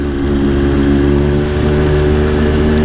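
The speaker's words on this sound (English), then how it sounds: "The bike sounds so freaking amazing" An MV Agusta Brutale 800 RC motorcycle with an SC Project exhaust idles and burbles loudly and close, a dense, steady engine note with no voices.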